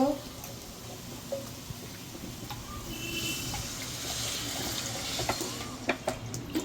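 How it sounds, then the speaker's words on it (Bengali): Water poured into a pot of potatoes in a home kitchen, a steady soft splashing wash that runs throughout at moderate level, with faint clinks near the end. "আমি এবার জল দিয়ে দেব।"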